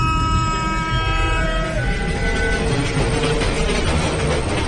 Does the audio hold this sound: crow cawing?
no